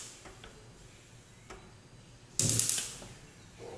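A household stove's igniter gives a few faint, sparse ticks during startup, followed by a short loud burst as it catches, with quiet background between.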